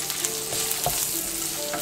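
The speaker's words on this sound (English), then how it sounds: "And we're going to saute this until the celery sort of starts to soften." Celery, raisins and cacao powder sauteing in a pan for Roman-style oxtail, a steady close sizzle with light stirring and no voices.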